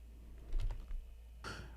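A computer keyboard clicks in a couple of quick soft keystroke bursts, close and faint against a low background hum, with no talking.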